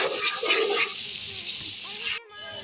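Onions sizzle in a hot pan while bhindi tori cooks, a steady broadband hiss with some clatter early, continuing right up to a brief cut near the end, then resuming more quietly.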